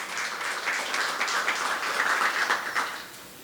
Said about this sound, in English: Let's give a round of applause for her, please.